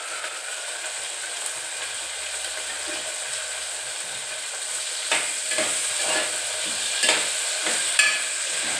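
Tomato and chili biryani mixture frying in a pan while being stirred, giving a steady sizzle with scraping strokes of the spoon growing more frequent toward the end.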